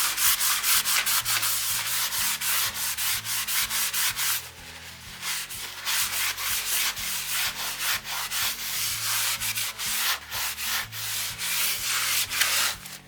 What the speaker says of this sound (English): you're going to give it a good rub down